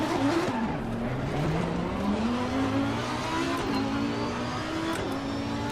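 GT race car at speed in Assetto Corsa Competizione, a loud steady engine drone rising and falling in pitch through gear changes, close and continuous with a hint of tyre scrub.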